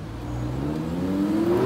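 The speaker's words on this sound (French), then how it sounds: "Est-ce qu'il va accélérer?" Bugatti Chiron Sport in Geneva building up engine revs, a steady loud whirring drone with a rising tone as it accelerates, heard from inside the car with no talk.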